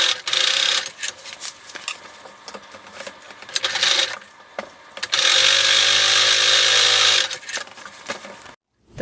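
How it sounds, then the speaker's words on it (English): A sewing machine bastes along each side of the pockets on a homemade beach bag, running in several bursts of loud, steady stitching with short pauses between runs and one longer sustained pass near the end. "We're going to baste along each side of both pockets."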